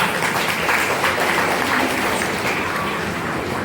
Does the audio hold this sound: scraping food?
no